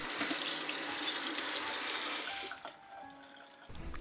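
Drained mushrooms rinsed under a running kitchen tap, a steady close rush of water into a sink that shifts and thins near the end as the flow changes.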